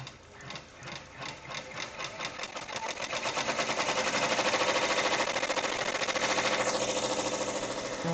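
An embroidery sewing machine hammers rapidly and rhythmically while tacking background fabric down to stabilizer and batting, starting in separate pulses and building into a steady, loud, close mechanical stitching.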